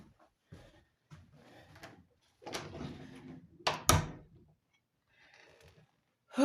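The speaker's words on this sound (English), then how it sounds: "And then Grace walks out the door." A door bangs shut as a person walks out, a sharp knock with a few shuffling footsteps and handling noises before it and quiet afterward.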